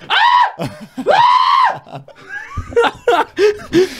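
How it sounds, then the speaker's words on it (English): A person screams loudly in excited reaction, with two long high yells close to the listener, then shorter whoops and laugh-like bursts in rapid succession. "I literally yelled like that"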